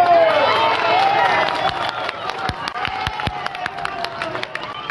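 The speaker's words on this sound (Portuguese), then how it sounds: "Já na rua, moradores aplaudem a ação da PM." Residents applaud in the street after a police operation in which an armed robber, shot in the leg, is led out by officers; a crowd's clapping and cheering carries throughout, with sharp claps standing out near the end.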